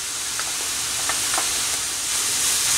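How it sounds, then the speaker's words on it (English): Chopped onions and fresh garlic sautéing in a pan give a steady, loud bright sizzle with a few faint crackles, close by and with no one talking. "And continue sauteing this for an additional couple minutes."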